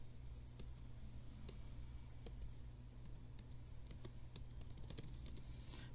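Typing on a computer keyboard, quiet and somewhat distant: irregular soft key clicks tapping out a search over low room hum, with no talking.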